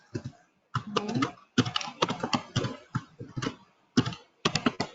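Keystrokes patter on a computer keyboard in quick bursts separated by short pauses, close and clear, while a password is entered into a web form.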